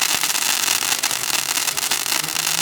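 Firework mortars go off near a racetrack during a track day, a dense wash of crackling bursts and rumble that stays loud for the whole short stretch.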